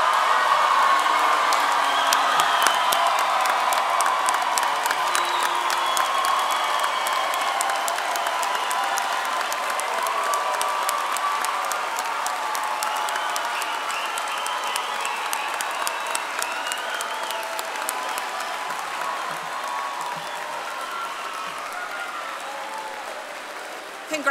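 A university commencement crowd rises in a long standing ovation, sustained applause with cheers and whoops rolling through a large arena and tapering slowly, with voices mixed into the roar.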